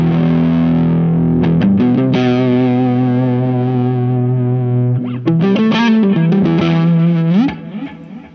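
Heavily distorted electric guitar chords ring out loud and sustained, with strummed attacks and a tremolo-bar pitch slide near the end.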